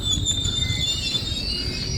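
A train stands at a platform, a steady loud rumble with a thin high metallic whine from the wheels and no voices.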